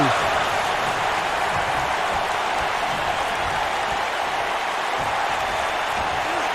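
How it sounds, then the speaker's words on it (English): Wrestling arena crowd in WWE 2K19 cheers and claps in a dense, steady roar with no let-up for several seconds, filling the background. "now the crowd letting us know how they feel as another pinning attempt, and Hockett gonna kick out at 2"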